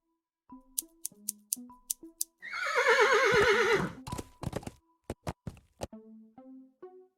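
A horse in a video game gives a loud, wavering whinny lasting about a second and a half, set among soft plucked musical notes and a few sharp clicks, with no talking.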